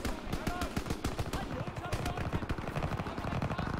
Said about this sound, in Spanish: Se oyen disparos, muy peligroso.